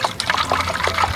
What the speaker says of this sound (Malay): Jadi kita masukkan air dulu.